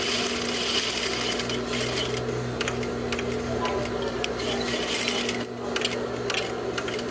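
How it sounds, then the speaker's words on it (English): A sewing machine stitches two fabric pieces together with a half-inch seam, producing a steady mechanical hum with rapid ticking clatter that briefly pauses, then resumes. "So we're going to sew these together 1/2 inch."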